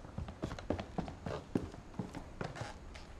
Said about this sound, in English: Does that sound like running footsteps to you?